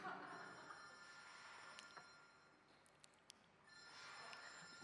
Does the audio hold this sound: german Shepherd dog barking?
no